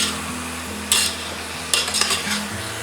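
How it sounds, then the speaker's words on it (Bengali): Food is stirred in a pot of dum chicken over raised heat, with a steady sizzle and repeated scraping sweeps of the utensil at about 0.9, 1.7, 2.0 and 2.3 seconds. A low hum runs underneath, and no one speaks. "ভালো করে মিশিয়ে নেব।"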